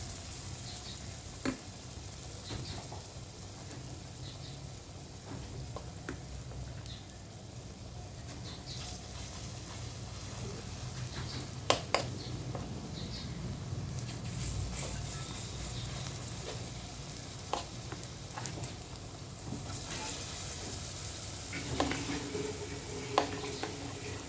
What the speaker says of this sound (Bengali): এবার আমি বড়াগুলোকে ভেজে নেব একে একে।